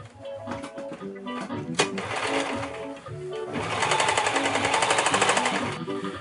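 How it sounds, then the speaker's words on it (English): A sewing machine topstitches a trouser cuff hem in steady rapid bursts, close and loud, with a brief pause partway and a sustained fast run toward the end. "so we've got the hem stitched in place by machine"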